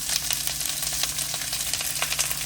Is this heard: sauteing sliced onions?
yes